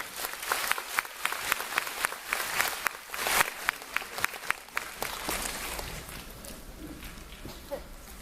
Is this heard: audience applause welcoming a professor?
yes